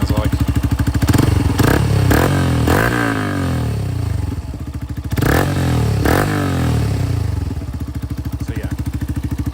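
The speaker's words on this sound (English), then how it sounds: "let's give it a bit of gas and see what it sounds like." A Yamaha YS125 125 cc motorcycle, engine already warm, idles close by and is blipped several times, each rev rising sharply then dropping back to a steady chugging idle.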